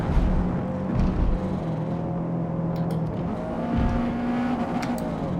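A race car in Forza Motorsport holds a steady, loud engine drone as it accelerates on track, with a sustained buzzing tone and a faint tire squeal, close and continuous with no talking.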